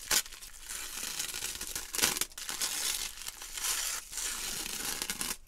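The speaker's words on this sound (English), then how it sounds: "Let's just take off this tissue paper." Tissue paper being pulled off a handmade plush head, loud close crinkling and rustling in several bursts, with no talking.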